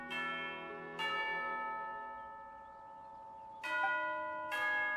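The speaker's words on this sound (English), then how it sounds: "You hear the sound of the bell?" A church-style bell in Genshin Impact rings for tea time, with four clear, resonant strikes whose harmonic tones hang and decay between hits, fairly loud and alone.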